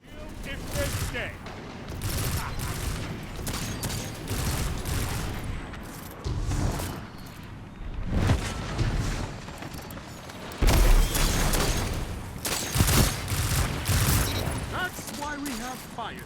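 Pulse rifle gunfire in Destiny 2, rapid bursts of shots with booms and mechanical clatter coming in dense stretches, loud and close, with a voice talking over parts of it.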